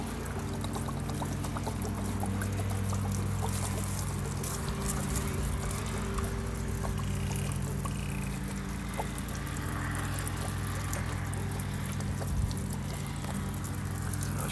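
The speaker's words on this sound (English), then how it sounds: "let the water drain out" Water pours and trickles steadily out of the drain-plug opening of a hot water heater tank on a Passport 2670BH travel trailer RV, a continuous close splashing stream that runs without a break.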